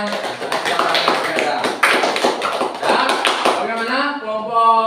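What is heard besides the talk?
classroom applause for Budi's group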